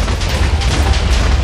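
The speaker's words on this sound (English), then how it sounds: "It will cover us from explosion." An explosion in the Minecraft video game sounds as a loud, dense, crackling roar of booming low rumble that holds steady for over a second and then cuts off abruptly.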